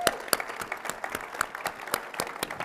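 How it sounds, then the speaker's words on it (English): A keynote audience at DrupalCon Portland 2024 applauds, giving sparse, distinct claps from scattered hands at a moderate distance in a large hall, with a soft crowd murmur. "So a big round of applause."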